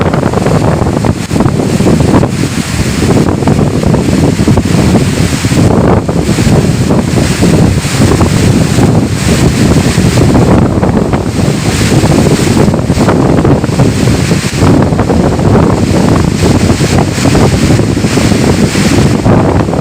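Strong coastal wind on the sea at Arattupuzha, Kerala, roars and buffets the microphone nonstop over crashing surf, a loud, dense rush for the full twenty seconds with no voices.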